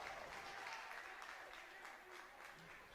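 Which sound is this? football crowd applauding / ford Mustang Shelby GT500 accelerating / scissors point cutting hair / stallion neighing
football crowd applauding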